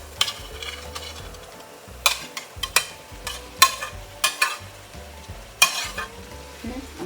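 Beef goes back into a pot with red wine for a rustic Italian stew, giving a soft sizzle beneath repeated sharp scrapes and clinks of a utensil stirring against the pot.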